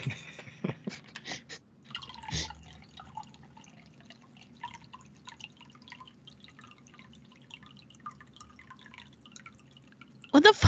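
Water dripping steadily indoors, a faint patter of small irregular drops running for several seconds at moderate distance, with a brief burst of talk early and a louder clatter at the very end.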